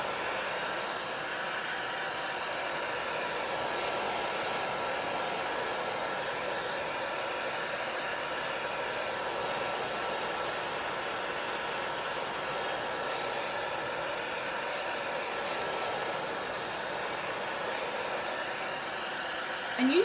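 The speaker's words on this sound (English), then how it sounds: "So I'm just going to take a regular hair dryer. I have it on warm." A hair dryer on the warm setting blows steadily and continuously at close range, drying chalk paint, a constant airy whoosh with no breaks from start to finish.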